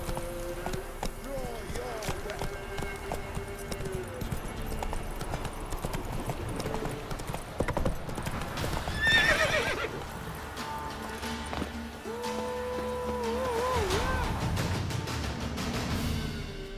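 A horse in The Witcher 3 gallops with rapid pounding hoofbeats and lets out loud, shrill neighs, close up over game music and ambience, with a voice speaking briefly.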